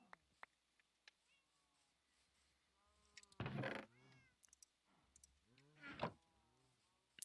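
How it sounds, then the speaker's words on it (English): A stray cat in Minecraft meows twice, loud drawn-out cries standing out over near silence, broken by scattered small clicks and ticks between them. "Chase this cat away from my kitty."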